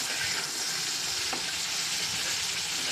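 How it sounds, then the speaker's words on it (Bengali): Okra coated in turmeric and salt fries in oil, giving a dense, continuous close-up sizzle with a brief stir midway. "তেলে ভেজে নেবেন,"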